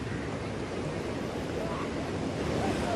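Rough, swollen sea surging onto the shore at Vasai-Virar during heavy monsoon rain near Mumbai, a steady loud roar of wash and surf with wind buffeting the microphone throughout.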